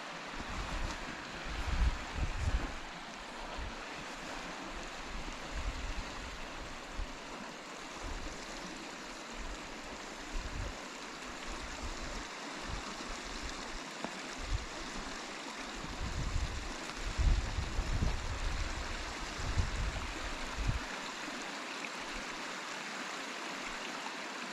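Water running over rocks at a stream's edge by boulders near Davidson's Linn, a steady broadband rush with low gusts of wind buffeting the microphone, continuous and fairly close.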